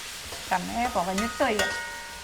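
Onions fry in a pan, giving a soft sizzle with a few short scraping bursts, close and without talk.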